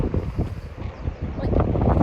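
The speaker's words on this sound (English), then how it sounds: "for obvious reasons, it's incredibly windy here" Strong wind at Tintagel Castle buffets the microphone in a steady low roar with rumbling gusts throughout, loud and close, with no voices.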